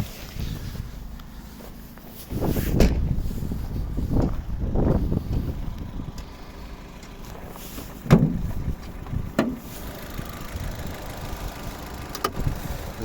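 The 1.8-litre MPI petrol engine of a dusty, unwashed 2010 Opel Zafira idles evenly and quietly, a low steady hum heard under gusting wind noise, with a few louder thumps and rustles around it.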